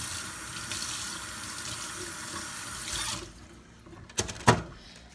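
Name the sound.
tap water running while rinsing turkey meat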